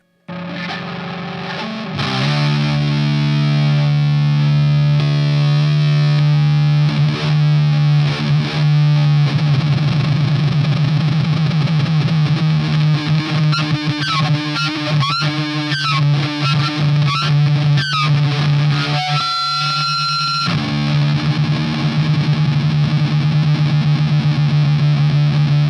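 Electric guitar run through a chain of effects pedals, loud and sustained: a steady distorted drone with wobbling, swooping spacey textures and bursts of warbling tones layered on top, continuous for the full stretch with no talking.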